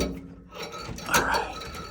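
Pliers grip and turn a nut on a three-way valve of a Laars Mascott wall-hung combi boiler, giving a short close metallic ratcheting scrape with faint mechanical clicks and no talk.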